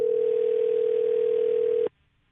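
A single steady telephone ringback tone sounds during an outgoing call, one continuous loud pure hum that cuts off abruptly near the end, leaving near silence.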